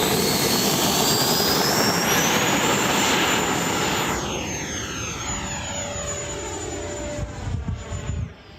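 E-flite Viper 70mm electric ducted-fan RC jet screaming loudly overhead, its whine sweeping downward as it passes and recedes into a steady distant hiss, then fading out near the end.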